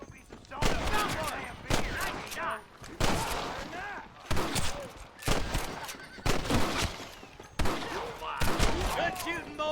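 Gunfire crackles through a Red Dead Redemption shootout in bursts of rapid, close shots that come in dense clusters, with a horse whinnying in places and voices talking over the fight.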